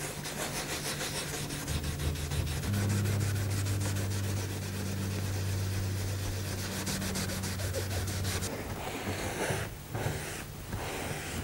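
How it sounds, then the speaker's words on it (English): A cloth balled up from old pyjamas wipes varnish dissolved with methylated spirits off old wooden furniture, making close, steady, continuous rubbing strokes for about eight seconds before a few shorter scrubs, with a faint low hum underneath and no voices. "I'm wiping the liquefied varnish off before it dries"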